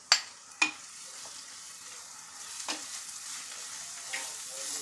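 Prawn curry masala paste with salt sautés in a pan, giving a low, quiet sizzle broken by a few sharp clinks and scrapes of a spoon stirring.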